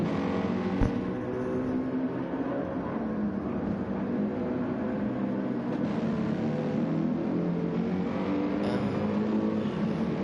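A race car engine runs with a steady, loud drone and slight pitch swells, heard from nearby with no talking.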